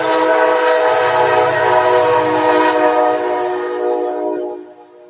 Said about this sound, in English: Kansas City Southern Railroad.